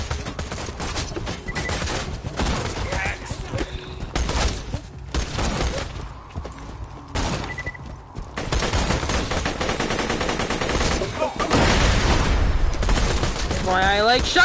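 Shotgun fire in the Borderlands 2 video game booms in dense, continuous volleys of blasts mixed with explosions and in-game effects, loud and crowded, with occasional voices under the chaos.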